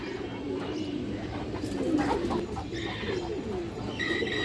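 Pigeons, including a pair of boot-beaked birds, cooing in soft repeated low coos with some chirps, fairly close, over a steady background hum, with faint speech nearby.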